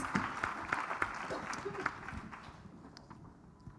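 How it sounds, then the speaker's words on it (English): An audience at a leadership event applauds as a guest is invited on stage, a scattered round of clapping that is moderately distant, under a speaking voice, and fades out toward the end. "Come and join us, please. Some applause."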